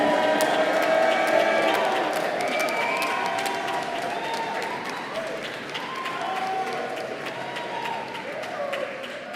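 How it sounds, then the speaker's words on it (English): Graduation audience in Rochester Cathedral cheering and clapping loudly, a dense sustained roar of voices and applause filling the space, with scattered whoops rising above and the volume easing slightly toward the end. "Come on, big cheer."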